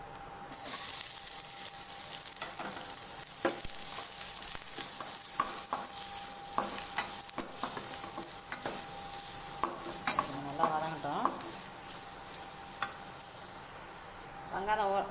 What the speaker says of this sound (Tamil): வெங்காயம் வெங்காயம் ஓரளவுக்கு வதங்கினா போதும்.